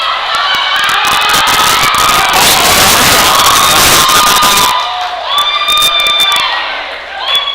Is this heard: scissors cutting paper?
no